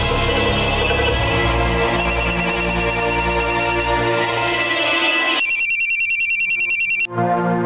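A phone ringtone plays as a repeating electronic melody, loud and close over an indoor drama scene with background music, with a burst of distinct rhythmic rings near the end before it cuts off abruptly.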